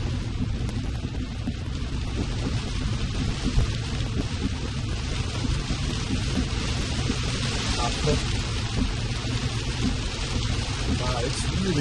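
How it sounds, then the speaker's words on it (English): Heavy rain and water spray hitting a Tesla driving itself in traffic, a dense constant hiss and drumming with low road rumble, steady and loud throughout, with a voice briefly heard under it. "Rain and water splashing at us."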